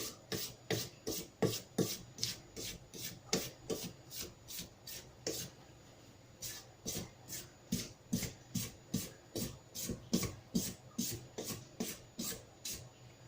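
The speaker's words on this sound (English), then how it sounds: "just scrape down the sides" Spatula scraping down the sides of a bowl of cake batter, a quick rhythmic run of close rasping strokes repeating steadily, with a brief pause partway through.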